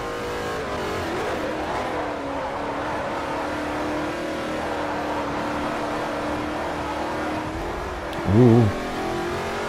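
A Koenigsegg race car in Forza Motorsport 4 drones at high revs throughout, a steady engine roar under game music, with a brief exclamation from a man near the end.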